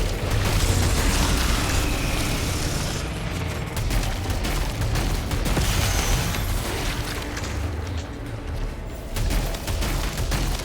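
Heavy, booming shotgun-style weapon blasts in the sci-fi shooter Returnal, loud and continuous, with dense bursts of fire layered over explosive game effects and no speech.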